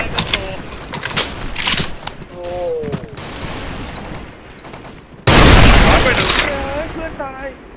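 Pistol gunfire in the shooter game Special Force 2 comes in scattered sharp shots mixed with other game effects, followed by a loud burst of sustained fire, while voices talk over the action.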